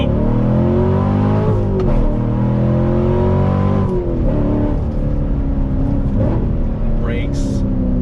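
A 2016 Chevrolet Corvette C7 Stingray's small-block V8 revs up through rising gear pulls, loud and close from inside the car, with someone talking over the engine roar.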